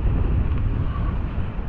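Heavy wind buffeting the microphone outdoors beside honey bee hives, a constant low rumbling roar with no voices.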